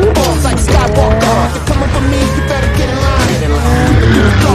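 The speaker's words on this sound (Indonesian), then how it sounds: "Shaw segera memacu mobilnya yang langsung dikejar Brixton dan anak buahnya." A car in a movie chase scene speeds off with loud, continuous engine roar and screeching, skidding tires. The dense, full soundtrack stays intense throughout the few seconds.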